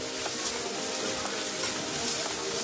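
Onions sizzle while frying in a pan for an Attu Kudal Sukka goat intestine dish, a steady bright hiss with faint crackles running continuously, close and moderately loud.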